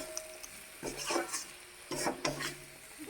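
Sugar and ghee are mixed into vegetables and nuts in a pan, two soft bursts of spoon stirring and scraping over a quiet sizzle, close but fairly faint.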